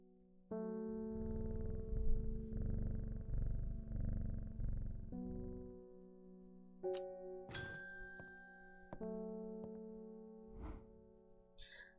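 Cartoonish purring from a petted cat in a Lego space video game, a steady buzzing rumble for several seconds followed by bright chimes and tonal game effects.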